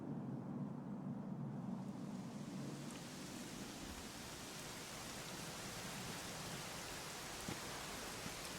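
Steady rainfall in Dragon Quest XI, a dense even hiss that fills the scene from start to finish, with a low rumble underneath and no voices.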